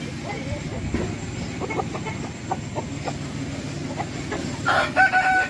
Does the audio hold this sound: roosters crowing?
yes